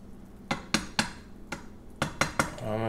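A spoon stirs a rice pudding mixture in a pot, knocking and clinking against the metal in about seven sharp, irregular taps close by, ending with a brief low hum.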